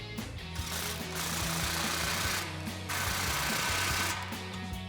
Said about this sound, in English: grab our 15mm socket to tighten it down